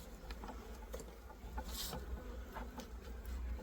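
Honeybees hum around an open hive where the queen is among them, a soft, steady close buzz with brief louder passes of individual bees, no voices.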